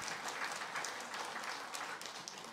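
An audience claps at a religious lecture, a faint, even patter of many hands at a distance that continues steadily for a couple of seconds, without anyone speaking.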